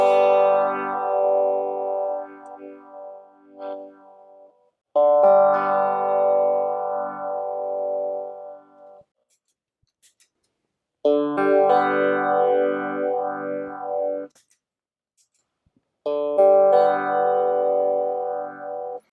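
Cheap vintage-style phase pedal from AliExpress sweeping an instrument signal, four separate bursts of swirling, whooshing tone with silent gaps between them, fairly close and clean.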